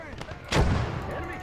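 Incoming artillery rounds in a tank battle video game land with a single loud, close boom, its rumbling tail fading over the next second, with faint background game sound before it.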